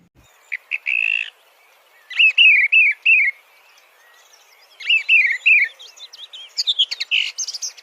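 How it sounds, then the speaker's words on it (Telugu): A thrush sings clear, whistled phrases in short bursts separated by silent pauses, loud and close with no other sounds around it. "థ్రష్ అనే పక్షులు కూడా మధ్య మధ్యలో గ్యాప్ తీసుకుంటూ ఎంతో అందంగా పాడతాయి."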